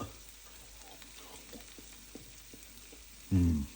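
Beef dry fry sizzling and frying in a pan, a steady low crackle that builds into a louder burst of sizzle near the end as the meat is stirred.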